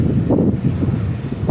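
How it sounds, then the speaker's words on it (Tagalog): Wind rushes steadily across the microphone during a long-distance bicycle ride past rice fields near Vigan, a dense, continuous low buffeting roar with no voices. "Mahangin."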